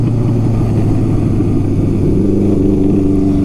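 A Honda CB750 F Supersport motorcycle engine running steadily while riding, a loud, continuous low droning hum with the pitch shifting slightly partway through, no voices over it.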